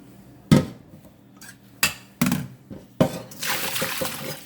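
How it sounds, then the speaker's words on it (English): Cooked pasta being strained in a colander in a home kitchen, with several sharp clanks of the pot and colander followed by a steady rush of draining water, close and fairly loud with no talking. "So now I'm going to go ahead and strain it again in the colander."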